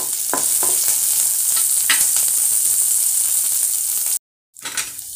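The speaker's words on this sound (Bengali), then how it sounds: "আদার পিস গুলো দিয়ে দিলাম। এখন ভালো করে নাড়ব।" Ginger pieces fry in a pan with a loud, steady sizzle, broken by several scraping stirs of a utensil and a short silent gap near the end before the sizzle resumes.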